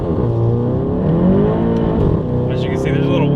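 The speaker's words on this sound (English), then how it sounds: "As you can see, there's a little wheel spin," A Volkswagen Golf GTI Clubsport with a stock clutch launches hard, its engine revving loud and rising through the gears with tire spin, close to the listener, while someone talks over it.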